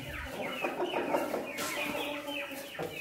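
Several chickens cluck and chatter close by in a continuous, uneven flurry of short calls, near onions set out for them.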